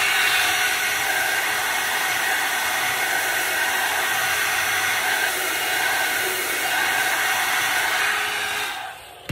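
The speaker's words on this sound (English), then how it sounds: "So I'm going to use my hair dryer and you will see." A hair dryer blows with a loud, steady whooshing hiss up close, then cuts off abruptly at the end.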